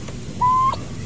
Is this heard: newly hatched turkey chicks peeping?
yes